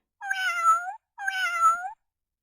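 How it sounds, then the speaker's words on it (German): Two drawn-out electronic cat meows from a 2012 VTech Tierchen Lernhandy toy phone, evenly spaced and clear, each lasting under a second with a short gap between. "Du hast die Katze angerufen."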